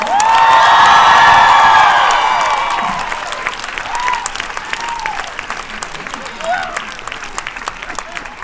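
Audience at a film panel bursts into loud applause, cheers and whoops as the guests walk on, the shouting fading after a few seconds and leaving scattered clapping and a few calls.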